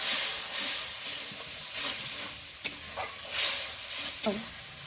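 Water poured into spiced rice frying in a pan, a steady sizzling hiss with brief stirring scrapes and a few sharp bursts as the liquid hits the hot oil.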